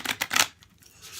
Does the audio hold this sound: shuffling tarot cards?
yes